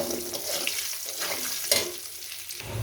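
Potatoes frying in hot oil, a steady soft sizzle with occasional light stirring scrapes, fairly quiet and continuous throughout.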